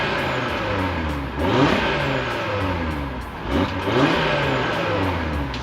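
An Audi RS3 engine revving up and settling, a loud, close, rough droning note that rises in two swells above a steady idle-like growl.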